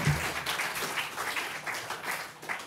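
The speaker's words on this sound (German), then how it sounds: "Das ist auch mal ein Applaus wert für meine Schüler." Audience applause at a jazz concert, a moderate, continuous patter of many hands clapping at close range.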